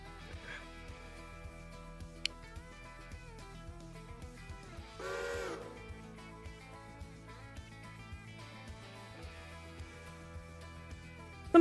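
A locomotive steam whistle in the railroad game Railroader gives one short, faint, breathy blast partway through, set against quiet, steady game ambience with soft regular clicks.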